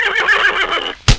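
A horse in a radio drama gives a single loud, close whinny that fades out, followed by a short sharp thump.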